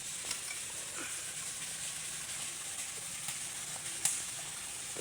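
Shing fish curry being stirred in a pan over a new clay stove, a steady close sizzle and hiss running throughout with a few faint scraping clicks, no voices.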